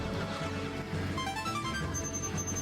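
A Star Fox 64 power-up pickup chime for the green double laser upgrade rings out briefly in a bright, rising tone over continuous game music and engine hum, fairly quiet in the mix.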